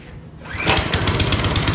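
A quad's engine catches with the choke on, rising into a close, steady, pulsing idle.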